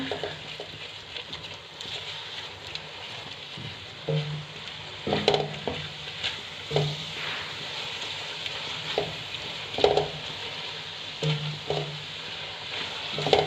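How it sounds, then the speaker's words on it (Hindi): A spoon stirs vegetable biryani in a pot over the flame, quiet sizzling under soft scraping strokes at an uneven pace. "चम्मच को मुसलसल चलाते रहना है।"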